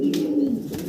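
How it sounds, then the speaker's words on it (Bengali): A pair of red indigo Danish pigeons coo nearby, a low, soft, throaty burble running through the moment, with faint rustling and a few brief higher chirps over it. "ভাইয়ের কাছে চমৎকার এক জোড়া ড্যানিশ কবুতর"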